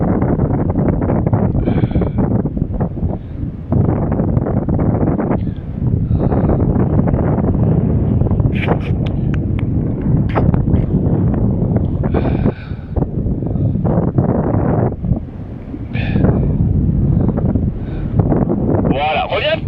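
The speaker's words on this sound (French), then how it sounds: "il y a du vent qui te pousse un peu" Wind buffeting the microphone during a paragliding flight roars steadily and loudly throughout, with a few brief gusts and faint voices underneath.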